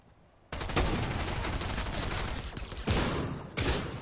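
Rapid gunfire from a video game firefight crackles continuously after a brief quiet start, dense overlapping shots with a few louder bursts, close and loud with no talking.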